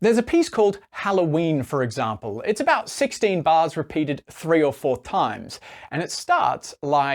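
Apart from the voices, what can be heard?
No distinct noise like a dog, phone or traffic.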